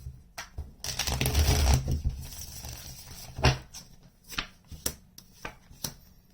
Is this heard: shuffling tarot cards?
yes